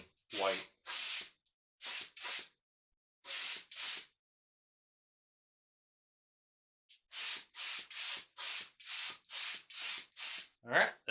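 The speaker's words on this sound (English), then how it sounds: "So now we'll get this all painted up." A spray gun applies Cerakote coating to a Kel-Tec KSG shotgun in short, close hissing bursts: several spaced blasts, a long pause, then a rapid series of about nine evenly timed sprays.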